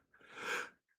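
A single quick sneeze, faint and breathy, lasting under a second.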